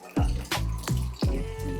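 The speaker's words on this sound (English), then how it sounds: "I am going to go ahead and wash some rice." Rice is swished and rinsed in water in a kitchen, four distinct sloshing pours or swirls in a loose rhythm, close and fairly loud with nothing else over them.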